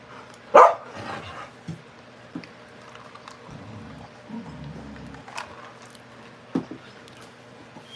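Dog barking from another room, muffled and moderately distant, with a sharp bark early on and a few scattered lighter barks and thumps over a low background hum.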